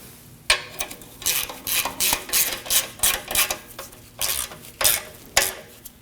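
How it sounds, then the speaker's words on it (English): Rapid metallic clicking of a ratchet tightening a bolt behind the transmission pan on a 2003-2006 Subaru Baja 2.5L H4, a steady series of close, crisp bursts with short pauses between strokes. "Now we can go ahead and tighten up the bolt."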